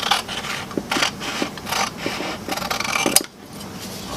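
Scissors snip through drawing paper in a run of quick, close cuts with short rasping strokes, then a brief sharp crunch and a quieter tail.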